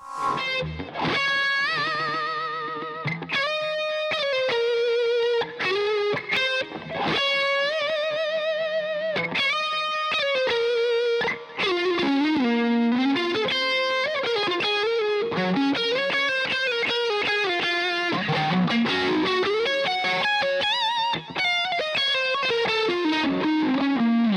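An electric guitar through an overdrive pedal and a tube amp plays a melodic riff with gritty, crunchy distortion, sustained notes and bends, loud and alone with no voices.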